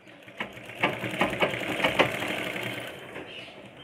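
Sewing machine stitching a blouse seam, a rapid rhythmic run of mechanical clacks that rises, holds for a couple of seconds and then slows, close and alone.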